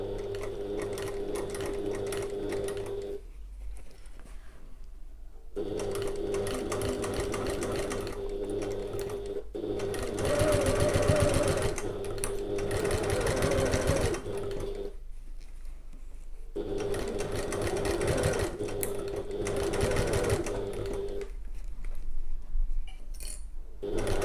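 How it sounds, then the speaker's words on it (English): Sewing machine stitching a fabric pouch closed in steady runs of rapid mechanical whirring, broken by short pauses, close and alone with no talk. "And then I'll just sew that closed."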